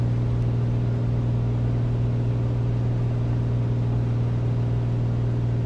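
Piper Comanche piston engine and propeller throttled back to about 2,400 RPM in a flight simulator, a steady loud drone with a strong low hum that holds evenly throughout, no voices.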